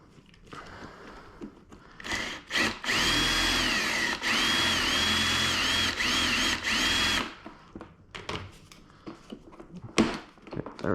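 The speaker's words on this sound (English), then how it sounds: "So we got to do a bit more drilling on it until it comes loose from that plastic." A power drill bores into the plastic of a sticky door panel on a Lexus IS250/350, whining loud and steady for about five seconds. Short bursts and clicks come before and after the long run.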